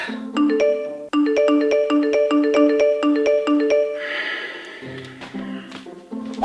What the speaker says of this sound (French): on voit le pauvre objet crouler sous une avalanche de notifications Instagram